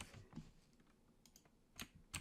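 Quiet keystrokes on a computer keyboard while logging into a Windows server, scattered taps and short bursts of typing with pauses between, close and soft.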